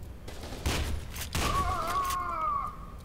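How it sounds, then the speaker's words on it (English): Shotgun fire in the video game FEAR 2: a couple of heavy booming blasts land close together, each with a rumbling tail. A thin, wavering whine rises after the shots. "I'm gonna have to shoot someone with a shotgun until I can get another gun"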